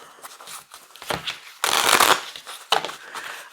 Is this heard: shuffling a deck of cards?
yes